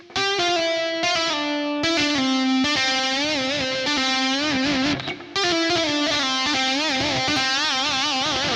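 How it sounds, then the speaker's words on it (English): A heavily distorted electric guitar plays a continuous legato line from a solo, sliding and bending notes with wavering vibrato, loud and close, briefly dipping midway. "So this sliding, bending, and the legato part would sound like this."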